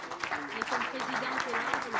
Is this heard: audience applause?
yes